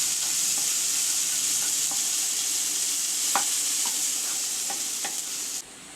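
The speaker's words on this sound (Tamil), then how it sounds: "வெங்காயம் நல்லா வதங்கிடுச்சு." Chopped onion sautéing in a hot pan for a Tamil potato egg fry, a steady bright sizzle with occasional soft scrapes and taps of a spoon stirring, continuous and close, with no talking.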